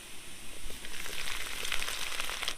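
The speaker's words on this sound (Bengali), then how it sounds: "আদা রসুন কুচি দুই থেকে তিন মিনিট ভালো করে ভেজে নিয়ে চিকেনগুলো দিয়ে দেবো" Chopped garlic and ginger frying in oil, a close, steady crackling sizzle with dense fine pops throughout and no speech.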